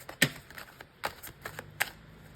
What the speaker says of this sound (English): I'll just give these cards one more shuffle.